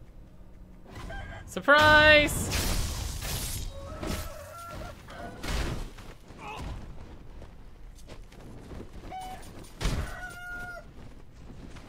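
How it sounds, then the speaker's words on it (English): Chickens cluck and squawk in the game Sekiro: Shadows Die Twice, with a loud flurry of fowl cries and a sharp strike during a stealth kill, then scattered clucks with someone talking over them. "Stealth kill a chicken."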